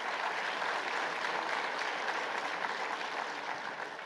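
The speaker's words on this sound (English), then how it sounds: "Please, a round of applause to Amir" Sustained, even applause from a large audience at the Africa CEO Forum summit in Kigali fills the hall at steady volume and fades slightly toward the end, with no talk over it.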